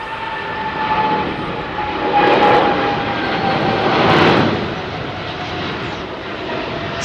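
Boeing 777 jet airliner with GE engines passing at an airport, a broad steady engine roar that swells twice as it goes by, with a faint whining tone above, no talk.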